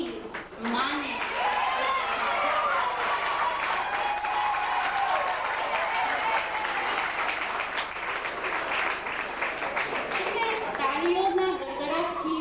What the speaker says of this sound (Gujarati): મારું વાક્ય પૂરું થાય તે પહેલા તાળી શરૂ થઈ ગઈ